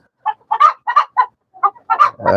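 Chickens and roosters on a rooftop cluck in a string of short, throaty bursts, about eight calls in quick succession, close by and clear, ending on a longer, drawn-out call.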